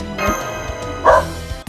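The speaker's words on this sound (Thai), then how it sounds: "อัดตรงช่วงหมาเห่าพอดี" A dog barks two or three times nearby, with sharp yapping barks over a faint steady background, and there is no talk.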